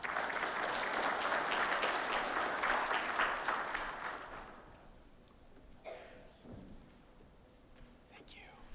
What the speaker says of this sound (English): And everyone just give a round of applause for Matthew.